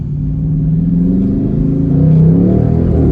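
Dodge Charger Scat Pack Widebody engine revs hard while accelerating, a loud, close, continuous low rumble that swells slightly toward the end, with no talking.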